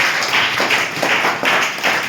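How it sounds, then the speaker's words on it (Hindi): Students in a primary school classroom clap together after a geometry activity on the angles of a triangle, producing a steady, dense patter of applause with gentle swells that fills the whole moment. "तो एक बार सब लोग बहुत बढ़िया ताली बजाएंगे अच्छे तरह से"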